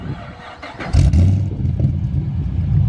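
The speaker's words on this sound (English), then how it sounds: "let's get this thing started up" A Holden Commodore SS with a cam and the mid-pipe deleted starts up in the rain. The starter whirs briefly, then the engine catches with a loud, deep, rumbling idle close by.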